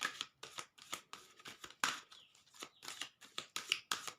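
Tarot cards are shuffled by hand in a quick run of crisp riffles and flicks, about a dozen close, fairly quiet bursts with short gaps between them.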